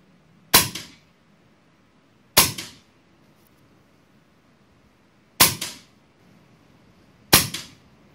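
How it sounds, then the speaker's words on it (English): A Brocock Bantam Sniper air rifle fires 25gr REX slugs, four sharp, loud cracks, each with a short decaying tail, spaced about two to three seconds apart with quiet between them. "the Bantam sniper shoots these slugs pretty well at 880 feet per second"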